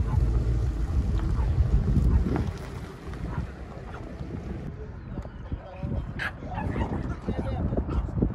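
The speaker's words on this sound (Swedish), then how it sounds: "Fullt upp här med att skälla ut alla mustangerna." A dog barks repeatedly outdoors at an event with Mustang cars, with wind buffeting the microphone and a busy background of crowd noise throughout.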